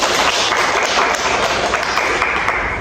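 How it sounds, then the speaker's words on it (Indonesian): Loud, dense applause from a group, with many hands clapping in a continuous, even wash of sound from start to finish. "tepuk tangan lagi."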